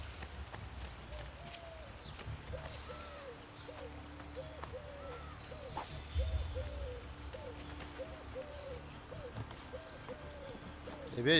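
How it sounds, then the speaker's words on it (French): Pigeons in Assassin's Creed Brotherhood cooing in a steady repeated rhythm of soft hooting calls, with footsteps and ambient bustle underneath and a voice speaking occasionally. "les pigeons, ils roucoulent comme il faut"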